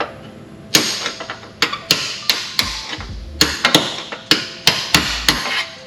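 A hammer pounds a bolt into the lower control arm of a Porsche 996/997 suspension, about fifteen sharp metallic blows in an uneven rhythm, close and loud.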